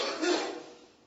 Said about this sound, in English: I had a simultaneous coughing